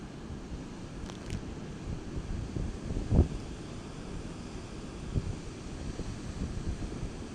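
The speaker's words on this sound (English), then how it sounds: "The waves are starting to get bigger now." Ocean waves roll in and break against shoreline rocks under heavy wind buffeting on the microphone, a continuous rumbling wash with a few louder surges.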